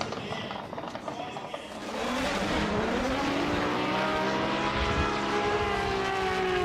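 A drift car at Fuji International Speedway goes hard on throttle, its engine rising into a loud, sustained roar with climbing pitch after a quieter start.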